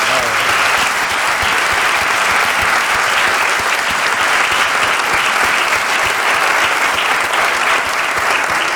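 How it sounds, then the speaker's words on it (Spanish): A large audience applauds loudly and steadily for the authors of a history research presentation on the early days of RC Deportivo, the clapping dense and sustained throughout with no pause. "darle un aplauso enorme de reconocimiento a Rubén y a Lois"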